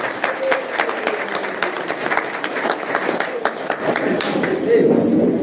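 A crowd applauds warmly at a political rally about pan-Africanism, with a thick, steady wash of clapping that swells slightly near the end, loud and close.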